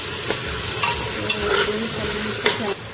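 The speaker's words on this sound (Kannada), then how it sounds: "ಸೊ ಅದಕ್ಕೆ ನಾನು 2 ಸ್ಪೂನ್ ಶುಂಠಿ ಬೆಳ್ಳುಳ್ಳಿ ಪೇಸ್ಟ್ ಹಾಕ್ತೀನಿ" Ginger garlic paste sizzling in a hot pan as it is stirred, a close, steady frying hiss punctuated by a few sharp scrapes and taps of the spoon.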